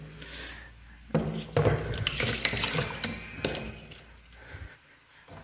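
Water pours from a coin-operated liquid vending machine into a cup, a steady splashing stream that starts abruptly, runs for a few seconds close by, then tapers off.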